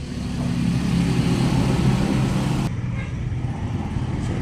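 A Mio Gear 125 scooter engine with a hard-starting fault runs with a steady, close, low rumble for a few seconds, then abruptly cuts out, leaving quieter background hum.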